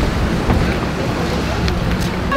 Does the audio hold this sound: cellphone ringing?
no